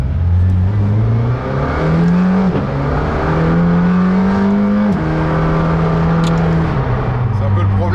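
A McLaren Senna with an 800 hp engine accelerating on track on semi-slick tyres, a loud close engine drone that climbs in pitch through repeated gear changes. Someone talks over the engine.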